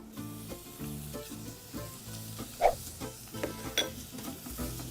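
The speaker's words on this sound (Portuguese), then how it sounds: "é importante escutar esse barulhinho para fritar a carne e não cozinhar" Ground beef sizzles in a pan with softened onion and celery, a crackling close fry with bursts of stirring and sharp spatters rising over the steady hiss.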